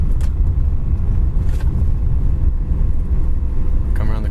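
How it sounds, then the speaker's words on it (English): A 1959 Ford retractable engine idles with a steady low rumble, a brief voice heard near the end. "the car idles nice. I mean, we're just at a nice idle right now."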